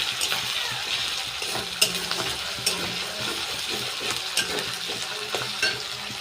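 Onion paste with ginger-garlic paste frying and being stirred in a pan for a meat curry, a steady loud sizzle broken by sharp scrapes and clacks of the spoon, with no talking.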